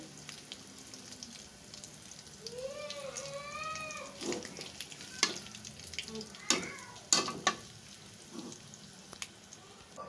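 Beef pieces frying and being turned in a pan, a faint sizzle with intermittent stirring clatter and scrapes; a cat meows briefly in the background partway through, no talking.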